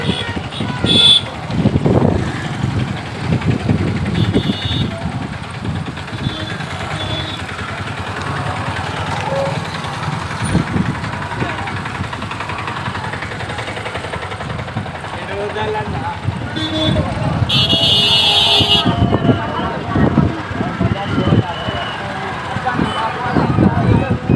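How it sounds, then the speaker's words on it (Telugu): Tractor trolleys and a large lorry drive past on a busy road during the Ganesh Chaturthi festival, their engines rumbling and chugging nearby in an ongoing stream of traffic noise, with voices mixed in. "చూడండి చాలా ట్రాలీలు అయితే వెళ్తున్నాయి గోదాం దగ్గరికి"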